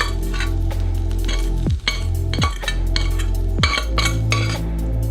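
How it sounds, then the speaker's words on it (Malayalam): A spoon clinks and scrapes against a pan while fried okra is stirred into yogurt, with repeated metallic knocks over a constant low hum and no talking. "നന്നായി ഇളക്കി യോജിപ്പിച്ചെടുക്കാം"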